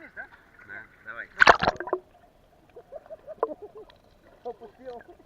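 A Black Sea wave breaks on the beach at Novomikhailovsky: one short, loud, splashing crash in the middle, with voices talking before and after it.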